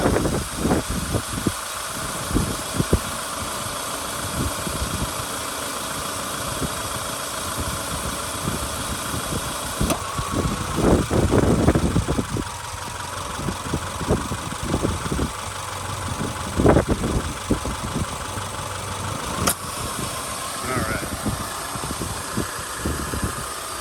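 A 2009 Subaru Impreza 2.5i wagon's engine idles steadily nearby with a low, even rumble, buffeted by gusts of wind noise.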